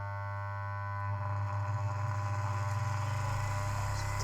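A small electric motor on a desktop Tesla coil build, driven by an electronic speed controller, runs with a steady whine and low hum that ramps up and grows louder, with a pulsing edge as speed rises.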